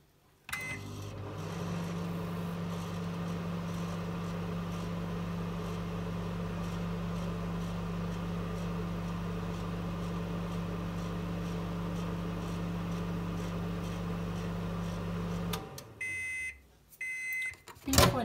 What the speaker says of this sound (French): la feuille dans le micro-ondes pour une durée de 15 secondes